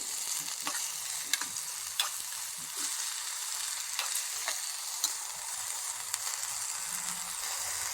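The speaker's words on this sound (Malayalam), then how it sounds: "ഇതിലേക്ക് 1/4 സ്പൂൺ ഉപ്പ് പൊടി കൂടി ചേർത്ത് നമുക്കിതൊന്ന് വഴറ്റിയെടുക്കാം" Chopped colocasia (taro) stems fry in a pan with salt, giving a steady soft sizzle with occasional sharp clicks and scrapes as they are stirred.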